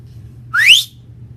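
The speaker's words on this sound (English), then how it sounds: "Yes, I did whistle at my wife." A man gives a single quick rising whistle to call his wife, short and fairly loud over a low steady background hum.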